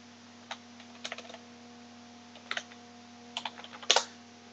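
Short bursts of typing on a computer keyboard, a few quick clusters of crisp key clicks over a faint steady hum, with no one talking.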